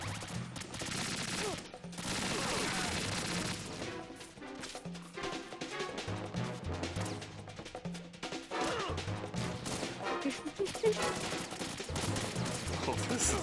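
Gunfire bursts in the video game Metal Gear Solid 2, dense and continuous under a loud game soundtrack, with repeated shots throughout and possible voices mixed in.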